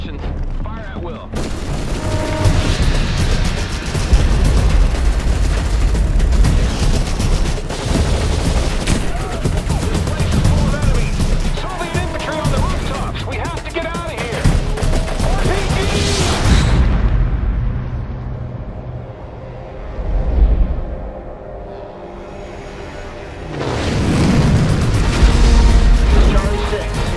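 Loud gunfire and heavy explosions from a World in Conflict battle trailer, dense fusillades and booming blasts running almost continuously, briefly dipping before a fresh burst of detonations near the end, with voices calling orders over the battle.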